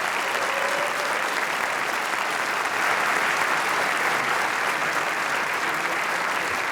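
Sustained, dense applause from a large audience at the BAFTA Games Awards ceremony, an even wash of clapping holding steady throughout without pause.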